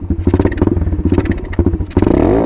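An Apollo 125 RFZ dirt bike engine, still warming up, putters in a rapid loud pulsing idle. It is blipped with throttle several times, then rises into a rev at the end.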